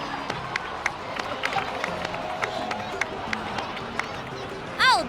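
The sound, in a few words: crowd applause in the video game Genshin Impact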